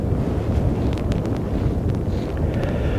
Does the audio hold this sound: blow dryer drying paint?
no